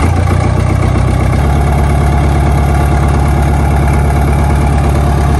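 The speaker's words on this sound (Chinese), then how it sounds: "启动非常成功，一把就打着火了。" A Caterpillar 215 excavator engine fires up and settles into a loud, steady diesel idle with a low rhythmic throb, heard close up until it cuts off abruptly at the end.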